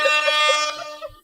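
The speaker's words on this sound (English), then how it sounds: "Is that a real air horn?" A loud, blaring air horn sounds in one sustained blast lasting about a second, then cuts off.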